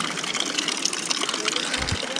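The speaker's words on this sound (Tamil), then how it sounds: "இங்கே ஒரு இடத்துலேருந்து மரத்துலேருந்து தண்ணி ஊற்றுற மாதிரி செட் பண்ணியிருக்காங்க" Water pours steadily from a spout set into a tree in the Ihlara Valley canyon, a continuous close gush with a low thump near the end.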